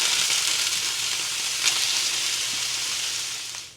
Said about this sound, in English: Want to brown it up a little bit on all sides